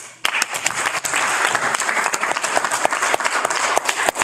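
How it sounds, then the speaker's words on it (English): Audience applause at a school board meeting honoring staff, a dense burst of clapping that starts suddenly and holds steady, close and lively, with sharp individual claps standing out. "So please applaud our hero, Ms. Ivonne Hernandez, Aida Benavides"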